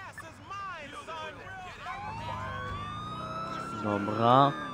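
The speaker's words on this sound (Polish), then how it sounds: "Czy policja, policyjny radiowóz." A police car siren wails in a rising tone in Grand Theft Auto IV, mixed with a busy, layered game soundtrack.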